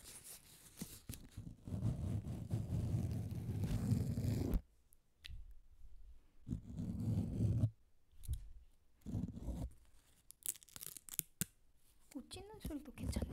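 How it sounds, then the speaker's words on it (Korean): Close, scratchy rustling of dried autumn leaves rubbed against a microphone, coming in uneven bursts separated by brief silences. "마이크를 긁어도 소리가 괜찮네요."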